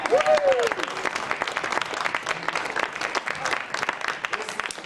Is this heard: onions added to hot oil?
no